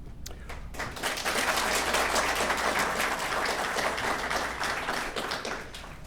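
Audience applause at a mayoral debate, a sustained wash of many hands clapping throughout the room, steady and fairly loud, with a low hum underneath.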